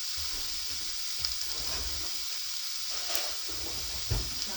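Soft steady sizzle of a small amount of bacon drippings heating in a pan, a continuous gentle hiss with faint crackles and light stirring, no talk.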